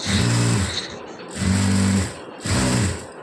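A sewing machine stitches piping onto a blouse's three-point neckline in three loud, close bursts of rapid mechanical whirring, separated by short pauses.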